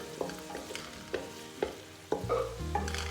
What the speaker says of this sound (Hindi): प्याज हमारे गोल्डन हो गए, इसमें हम अदरक लहसुन का पेस्ट शामिल कर देंगे।